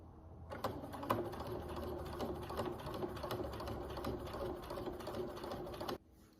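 A sewing machine stitches in a fast, even mechanical patter that starts abruptly, runs for about five seconds close and clear, then stops sharply.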